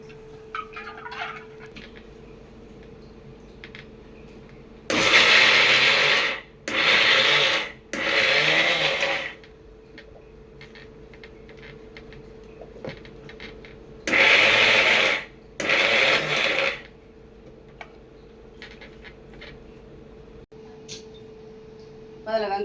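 Mixer grinder pulsing soaked chana dal and toor dal, five loud bursts of whirring grinding separated by quiet pauses, with a low hum in between.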